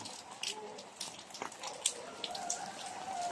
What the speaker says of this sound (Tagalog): patuloy pa rin po ang ulan